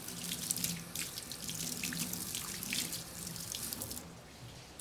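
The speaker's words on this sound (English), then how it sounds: "then you are going to rinse the knife with hot water." Hot tap water runs steadily into a sink while a chef's knife is rinsed under the stream, a close continuous splashing hiss that eases toward the end.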